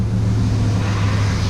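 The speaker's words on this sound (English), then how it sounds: "you hear all the traffic going by, they're logging trucks that are going by and utility vehicles" Steady road traffic rumbles past outdoors as logging trucks and utility vehicles go by, a continuous low engine drone and tire roar with no gaps, fairly loud and without speech.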